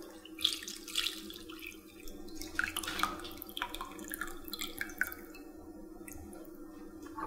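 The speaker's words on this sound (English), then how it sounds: "Filter this through cheesecloth." Beef short rib broth for Korean galbitang trickles and drips through cheesecloth close up, with soft splashing, squishing and intermittent pours over quiet kitchen background.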